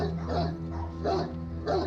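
A big dog barks repeatedly from a windowsill behind glass, three loud, close bursts in a steady rhythm over a low steady hum.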